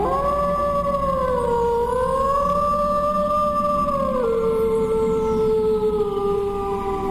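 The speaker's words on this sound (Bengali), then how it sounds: "অন্ধকারের বুক চিরে ভেসে এলো কয়েকটি শেয়ালের ডাক।" Several jackals howl in the dark, long sustained wailing tones that slide slowly in pitch, loud and unbroken for the whole stretch with no talking.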